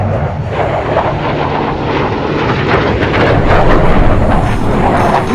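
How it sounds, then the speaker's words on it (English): A Thunderbirds F-16 makes a high-speed inverted low pass about 200 feet above the ground at an air show, its jet roar loud and continuous, building steadily as the aircraft sweeps close overhead. "Now from the left, watch as Major Curran flips her F-16 upside down at a mere 200 feet above the ground for a high-speed inverted pass."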